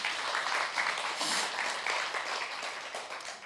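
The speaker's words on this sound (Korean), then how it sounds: "박수 한번 쳐주세요." A studio audience claps in a steady, dense burst of applause for about three seconds, fairly close and even in level, with no voices over it.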